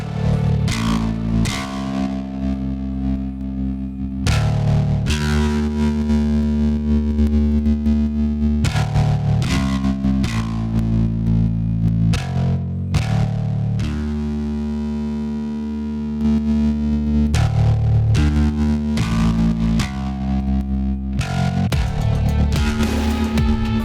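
Loud, heavily distorted synth tones pulse and shift in character as modulation sources shape the distortion, with chopped rhythmic bursts and brief gaps, the grit rising and falling throughout.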